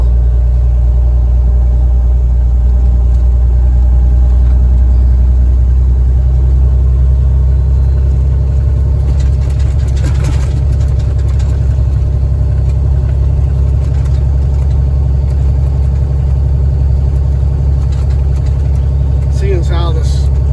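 A cab-over truck engine runs loud and steady while driving, its deep rumble rising and falling through gear shifts, with a few clicks and rattles from the cab.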